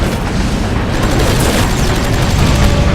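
Continuous heavy flak gun fire in the video game Heroes over Europe, a dense, loud barrage of booming shots and blasts layered over a roaring wartime background with no pause.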